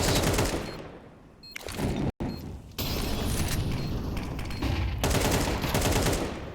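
Pistol fire in a Counter-Strike 2 pistol round at a professional match, rapid sharp shots in clustered bursts with a brief silent gap, loud and close over steady background noise.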